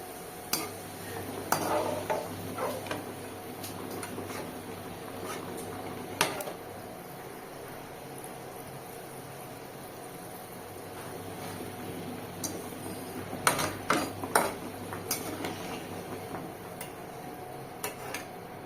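Crispy fried potatoes are stirred and lifted in a pan, giving a steady faint sizzle with scattered scraping and clinking utensil strikes, a few sharper clatters standing out.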